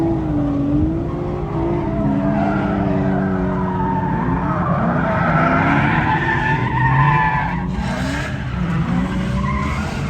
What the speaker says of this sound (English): There's nice drifts right here.